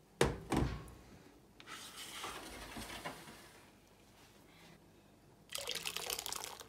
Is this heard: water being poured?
yes